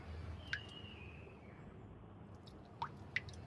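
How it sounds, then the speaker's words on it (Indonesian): Water drips in a quiet room, with a few distinct plinks spaced apart: one early and two close together near the end. "ternyata ini adalah suara tetesan air"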